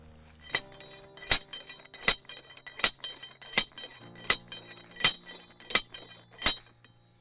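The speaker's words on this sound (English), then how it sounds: "as we're hammering it in" Steady metallic hammer blows ring out as a steel target stake is driven into rock, about nine evenly spaced strikes, each sharp and bright with a brief ringing decay.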